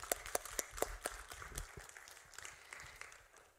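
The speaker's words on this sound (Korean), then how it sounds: "하나님께 잠시 3초 정도만 박수로 영광 돌렸으면 좋겠습니다" A church congregation applauds, faint and somewhat distant: a handful of distinct, sharp claps in a loose rhythm at first, thinning into softer scattered clapping that trails off toward the end.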